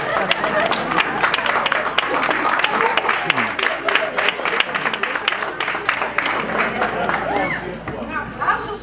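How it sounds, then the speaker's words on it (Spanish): Steady crowd applause for sponsors at a Latin awards gala, dense clapping with chatter and a few shouts mixed in throughout, continuing without a break. "Un aplauso,"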